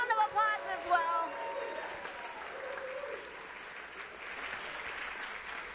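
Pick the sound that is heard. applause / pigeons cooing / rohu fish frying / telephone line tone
applause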